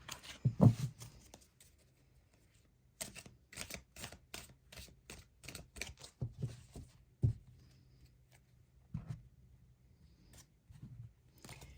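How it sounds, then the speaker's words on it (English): Bursts of crisp, papery riffling and tapping as a Zodiac Tarot deck is shuffled up close, coming in repeated rapid runs separated by short pauses. "give these cards a shuffle."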